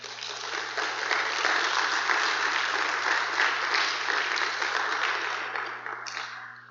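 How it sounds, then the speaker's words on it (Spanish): A church congregation claps together, a dense, loud and steady wash of many hands that holds for several seconds before easing slightly at the end. "Denle un aplauso al Señor."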